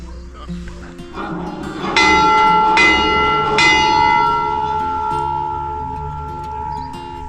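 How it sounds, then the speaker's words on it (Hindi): A temple bell at the Maa Kalika Devi temple, on a forested hillside, is struck three times in quick succession; each loud, bright clang rings on and blends into a long, sustained shimmering tone over faint background murmur. "देखते हैं ये घंटा बजता है कि नहीं"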